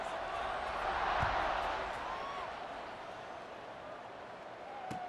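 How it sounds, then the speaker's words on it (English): Football stadium crowd at an Ohio vs Marshall game, buzzing steadily after a late score: a broad, continuous roar of many distant voices that swells briefly and then settles, with a couple of sharp thumps near the start and end. "this crowd is buzzing after that last score"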